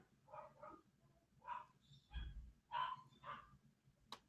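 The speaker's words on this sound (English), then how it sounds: "Oh, my dogs are barking at something." Several dogs bark in short, faint, distant bursts from somewhere indoors, with a few sharp yaps in between.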